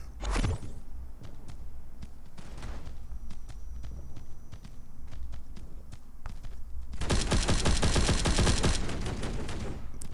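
Machine gun fire in the mobile shooter Guns of Boom, with scattered bursts and single shots early on, then a sustained, loud, rapid automatic burst over the final few seconds, alongside faint game footsteps.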